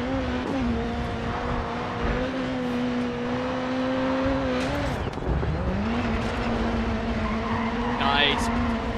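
A race car in a driving game, played on a Logitech G920/G29 wheel with shifter, drones loudly, dips in pitch as it drops to fifth and slides around a corner with a faint tire squeal.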